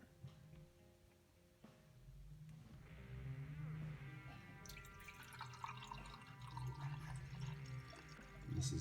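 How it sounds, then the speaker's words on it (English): Spent wort is poured off a homebrew yeast starter, a close trickling, dripping pour that swells partway through, with soft background voices from the brew day. "We're gonna try to decant some of this spent wort."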